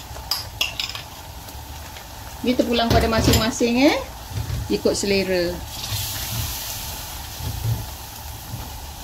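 A steady sizzle of spice paste frying in oil for Malaysian asam pedas, with occasional stirring clinks, while someone speaks briefly over it.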